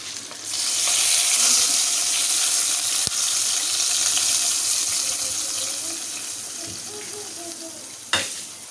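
Hot oil sizzles loudly and steadily for several seconds as a tadka is tempered for kadhi, tapering off, with a brief clatter near the end.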